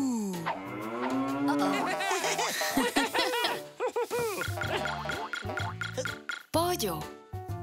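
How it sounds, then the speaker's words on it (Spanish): A cartoon cow moos in a Spanish-language children's show set on a farm, long drawn-out lowing mixed with lively character voices and music. "¡Vaca!"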